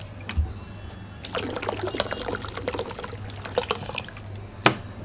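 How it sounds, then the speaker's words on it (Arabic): About a liter of water is poured from a bottle into a pot for a henna mixture, giving a close, bubbling, gurgling stream with splashes and drips and a final splash near the end. "هنزل كده بكميه الميه بتاع حوالي رتل ميه"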